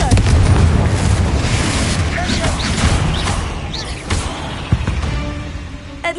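Repeated Confringo blasting spells burst in Hogwarts Legacy, booming explosions rolling under a busy, loud game soundscape with a sharp hit near the end.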